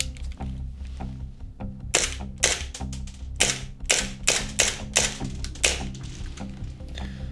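An airsoft 1911 pistol fires a quick, fairly regular run of about eight sharp, close cracks over a steady low background hum, with a short pause before the first shot.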